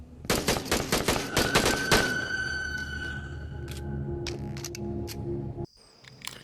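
Rapid burst of TT-33 Tokarev pistol shots emptying a magazine in the VR game Into the Radius, about a dozen loud close cracks packed into two seconds, then quiet mechanical clicks and a soft ringing tail.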